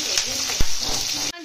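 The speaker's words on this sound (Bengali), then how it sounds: "চিংড়ি মাছগুলো মা তেলের মধ্যে দিয়ে দিয়েছি" Prawns sizzle in hot oil in a home kitchen, a steady, loud hiss with a brief clunk partway through before it cuts off abruptly.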